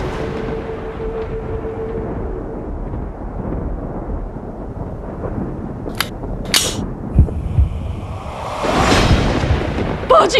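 Gunfire aimed at a boat in a dramatic TV scene: several sharp cracks burst out near the end, over steady background noise and scattered shouting.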